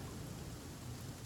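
Steady rain pours with a low thunderstorm rumble beneath it in The Flame in the Flood video game, a dense, even wash of sound with no voices.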